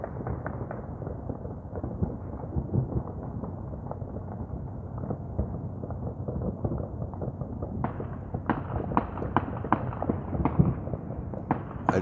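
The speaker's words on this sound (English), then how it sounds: "There's a lot of gunfire going off right now." Repeated sharp cracks of distant gunfire pop irregularly over a rumbling background on New Year's Eve in Detroit, growing denser and louder toward the end.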